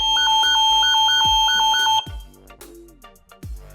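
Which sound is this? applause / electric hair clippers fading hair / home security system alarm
home security system alarm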